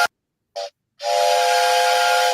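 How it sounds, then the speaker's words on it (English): Steam locomotive whistle sound effect: a short toot, a brief pause, then a long loud breathy whistle with steady tones and hiss, heard alone. "Here's Bittern's whistle."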